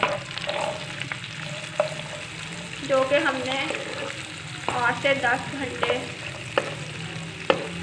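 Boiled white chickpeas frying and being stirred in a pan, a soft continuous sizzle broken by scraping stirs and clinks from a utensil, close by, with someone talking over it at intervals.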